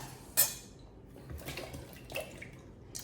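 Potato chunks dropped into a cooking pot for chitterlings land with a sharp clatter near the start, followed by a few softer knocks and splashes in a quiet kitchen.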